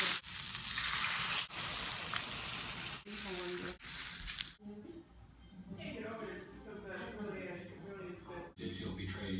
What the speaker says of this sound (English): sausages will probably let out a little bit of fat and grease up the pan for me